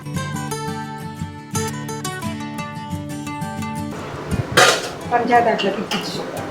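A metal utensil scrapes and clinks against a pot while pongal is stirred. The clatter is irregular and close, with music playing and voices nearby.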